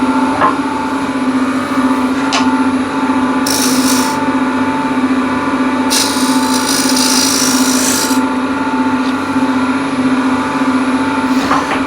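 A container spins on a wood lathe while a scraper works its outside, producing a steady humming whine with a continuous rasping scrape. Short bursts of harsher, hissier cutting come and go as the tool bites into the wood.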